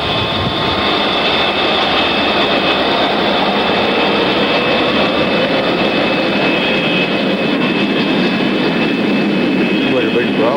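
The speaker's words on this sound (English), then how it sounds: "Maiden One cleared for takeoff." A jet airliner roars through its takeoff run with a loud, steady, dense jet-engine rumble and whine that lasts the whole stretch, close and powerful, with voices talking underneath.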